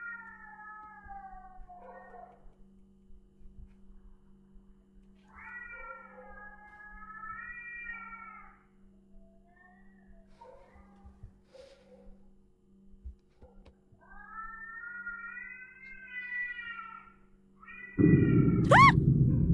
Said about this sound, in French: Un chat errant, il miaule vraiment fort.